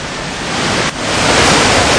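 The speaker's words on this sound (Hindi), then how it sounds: "बाढ़ का पानी यहां से आगे बढ़कर भागीरथी के संगम में मिल रहा है।" Floodwater rushes through Uttarkashi during a monsoon deluge, flowing on toward the Bhagirathi confluence, making a loud, constant roaring wash of broadband noise that fills the short stretch without a break.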